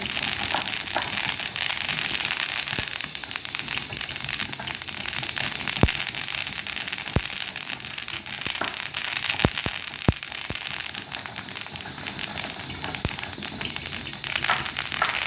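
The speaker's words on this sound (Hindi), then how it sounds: "तिल को हम अच्छी तरह से भून लेंगे।" Sesame seeds dry-roasting in a pan make a steady, dense crackle and hiss throughout, with scattered sharper pops and ticks standing out, no voices.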